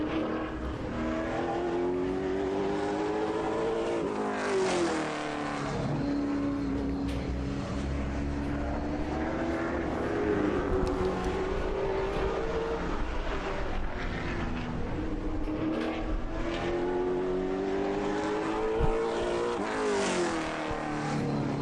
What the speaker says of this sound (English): Up first, car number 82, the Seacoast Truck and Auto Car, Bobby Balagian from Kingston.